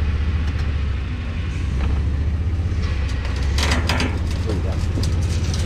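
A vehicle slowly reverses a trailer, producing a steady, low engine rumble that holds throughout at moderate loudness, with faint rattles rising briefly near the end.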